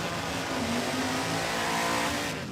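A front-engine nostalgia dragster roars through a big burnout at a dragstrip, a loud, steady, rough engine howl with tire noise that holds throughout without letting up.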